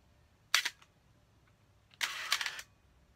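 A Pentax 6x4.5 medium-format film SLR fires its shutter: a sharp mechanical click, then after a pause a second, longer burst of whirring clatter from the slow shutter, close and alone.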